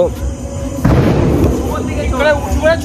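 A chocolate bomb firecracker set off during Diwali goes off in one sudden loud bang. Excited voices can be heard before and after the blast.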